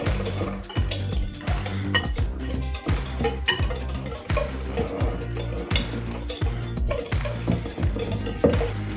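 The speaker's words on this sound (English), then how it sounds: "Give it a stir." Pork belly is stirred in a metal pan with a pomegranate glaze, a utensil scraping and clinking in a quick, regular rhythm of about a dozen close strokes over a faint sizzle, with no talking.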